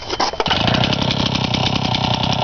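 A 1962 Lawn-Boy Gardener tiller's small engine catches after a brief pull, then settles into a steady, loud, close-up running rattle that carries on unbroken.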